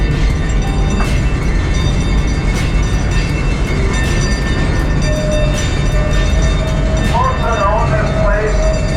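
A train at a bison ranch rumbles along steadily with dense, continuous noise and faint clicking, loud and close, with brief tonal squeals near the end.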